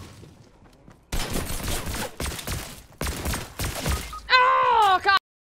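Gunfire in the Fortnite video game: a string of sharp, loud shot bursts after a quiet start, clustered in rapid volleys, ending with a brief warbling electronic effect before silence.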